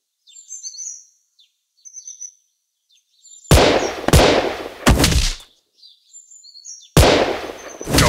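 Bursts of sharp gunshots from a shooting video game ring out as loud, rapid cracks in short clusters, set against faint chirping bird-like game sounds, with no talking.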